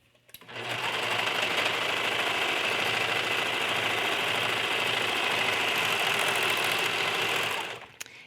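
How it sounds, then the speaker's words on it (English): Sewing machine running steadily, stitching one long straight inseam on flannel doll pants; a continuous close mechanical whir lasting nearly the whole stretch, starting and stopping cleanly with no talk. "then we'll sew the whole inseam in one straight seam"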